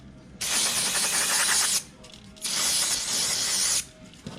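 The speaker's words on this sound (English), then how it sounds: "let's just spray some stuff on there and clean it out" Spray cleaner hisses onto a jammed grinder in two long bursts of about one and a half seconds each, close and steady, separated by a quiet pause with faint mechanical clicks.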